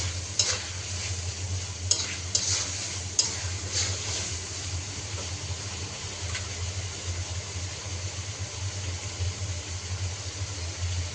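Prawns fry and get stirred in spice paste in a pan, a steady close sizzle with scraping stir strokes and a few sharp clinks near the start, over a low continuous hum.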